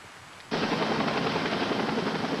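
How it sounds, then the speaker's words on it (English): A steady, loud Mediflight medical helicopter rotor roar starts abruptly and holds constant, a broad whooshing drone close by with no voices. "A Mediflight helicopter was also dispatched from more than 50 miles away"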